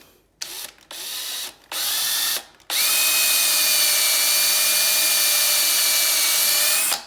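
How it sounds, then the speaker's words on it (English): Power drill with a 9/64 bit cutting through a flange, a few short whining bursts and then one long steady high-pitched run close by, with no talking. "We're going to drill straight through it like that."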